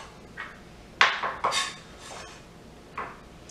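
Minced garlic scraped into a small dish brings a few light clinks and knocks of a utensil against the dish, close and moderately quiet, with a cluster near the middle.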